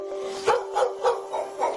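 Several dogs bark together in an animal shelter kennel, a chorus of repeated barks in an uneven rhythm of about five bursts, moderately loud and fairly close, over a steady background hum.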